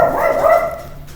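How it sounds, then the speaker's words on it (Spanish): A dog barks once in a short, loud, close howling bark that trails off, heard alone in an indoor setting. "perdón por el perro"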